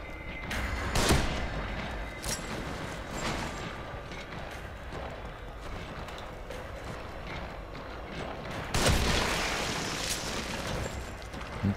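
Two loud gunshot bursts ring out in The Evil Within, a survival horror video game, one near the start and another around the nine-second mark, over a dense, rumbling game soundscape with no talk.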